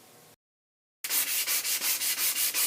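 Hand sanding of a porous figured walnut guitulcimer body, a close, loud rasp repeated in even back-and-forth strokes after a brief silence.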